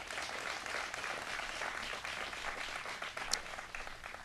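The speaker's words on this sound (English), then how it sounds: "let's give them all a round of applause" Audience applause fills a hall at a governor's bill signing ceremony, a dense sustained wash of many clapping hands at steady loudness with no voices heard over it.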